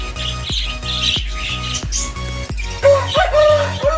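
Pet budgies squawk and chirp in a home aviary, with close, busy, overlapping calls running throughout and over a steady low rhythmic pulsing.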